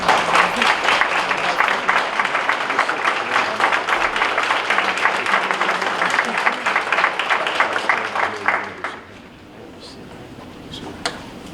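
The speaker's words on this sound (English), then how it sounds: "Let's give them another round of applause." A school board meeting audience gives a long round of applause, dense steady clapping that fills the room for about nine seconds before thinning out to a few scattered claps.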